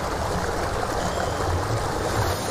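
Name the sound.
rushing water flood sound effect in stage drama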